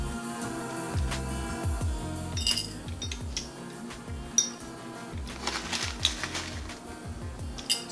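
Loose fruit tea with dried peach pieces scooped with a metal teaspoon measure, giving a run of small clinks and light scraping taps against the tin, fairly close and steady, with no voices.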